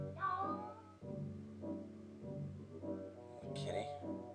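Housecat meowing, with several drawn-out cries repeating roughly every half second to second, close and fairly loud, under and between a voice talking throughout.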